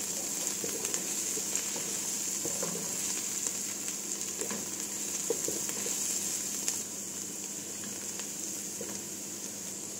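Onion frying in a pan with turmeric powder added, a steady, close sizzle with faint stirring scrapes and no talking.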